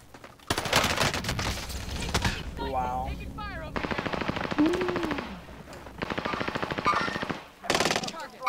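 Rapid automatic machine-gun bursts from a Warzone Pacific firefight ring out in several loud volleys across the scene, mixed with other gunfire and brief in-game sound effects.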